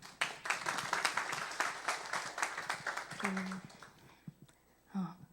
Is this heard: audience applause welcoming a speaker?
yes